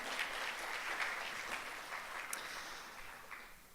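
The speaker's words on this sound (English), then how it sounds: "please give him another round of applause" Applause from an audience at a presentation event, a steady moderate patter of many hands sustained for nearly four seconds with no talk over it, fairly quiet and somewhat distant.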